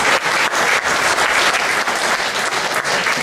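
A live show audience breaks into warm, steady applause that fills the room. Many hands clap at once in a continuous roar with slight swells.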